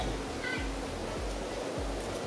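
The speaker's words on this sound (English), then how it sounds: "one of my nightly chores is to come out here and water the grass" Water sprays steadily from a hose onto grass outdoors, a continuous rushing hiss, with low rhythmic thumps beneath it.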